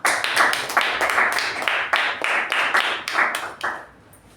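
A Toastmasters meeting audience claps for the evaluator: a dense, steady round of hand claps, fairly close and loud, holding for about four seconds before tapering off.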